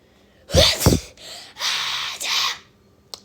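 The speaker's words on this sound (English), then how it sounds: "I was sneezing too much" A person sneezes close to the mic, a sharp burst followed by several breathy noisy gusts, then a faint click at the end; no words spoken.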